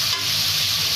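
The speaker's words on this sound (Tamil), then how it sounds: "அதை விட நான் சும்மா கலக்கிறேன்." Onions frying in a pan for kuska rice while being stirred, a loud, steady close sizzle with a soft scraping stir underneath, no voices.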